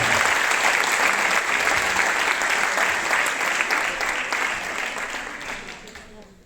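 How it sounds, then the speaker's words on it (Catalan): Loud, dense applause from a graduation ceremony audience fills the space, sustained steadily before gradually tapering off toward the end. "un fort aplaudiment"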